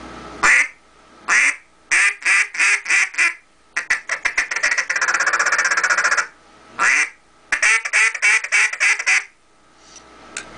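An H&R duck call blown in quick bursts of loud, nasal quacks, single notes and rapid chattering runs, close and with no one talking.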